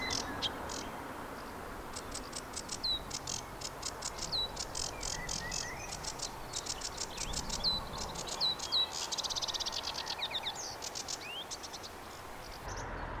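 A common whitethroat warbler sings in the field, quick scratchy chirping phrases at moderate distance, over a constant bed of cricket and insect buzzing.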